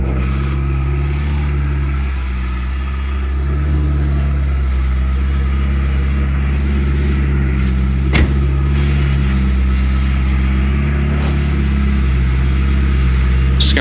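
A 2020 Ferrari 488 Pista V8 idles steadily while warming up, a loud, even low rumble held throughout with slight fluctuations and no revving.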